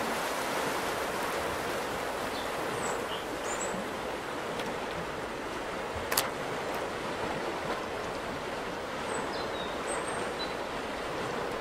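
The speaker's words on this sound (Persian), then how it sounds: "یه رودخونه نیست، نهره، پل نمیخواد." A flowing stream in an Iranian feature film scene gives a steady, broad rushing wash of water, continuous and fairly loud, with faint bird chirps and a brief click on top and no talk.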